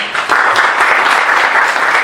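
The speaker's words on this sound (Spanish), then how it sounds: "Un aplauso al grupo igual." Participants in a diploma course session give a group a brief round of applause, about two seconds of dense, loud clapping that starts suddenly and holds steady.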